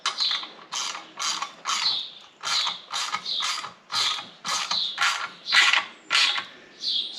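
A ratchet wrench snugs bolts tight while a paramotor is assembled, its pawl clicking in a dozen or so steady bursts close up, each a short creaking run of fine clicks with brief pauses between strokes, with no talk.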